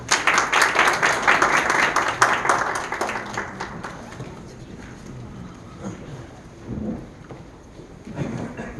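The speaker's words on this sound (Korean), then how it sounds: "박수 부탁드립니다." Audience applause at a Daelim C2 House press conference, a burst of clapping for the first few seconds that thins and fades, followed by scattered room noise and a few faint voices.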